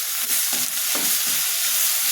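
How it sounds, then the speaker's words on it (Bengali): Greens sizzle steadily in a hot pan with fried garlic and onion. A constant frying hiss runs throughout, broken by a few soft stirring scrapes. "আমার রসুন পেঁয়াজ ভাজা হয়ে গেছে, শাকগুলো অলরেডি আমি দিয়ে দিলাম।"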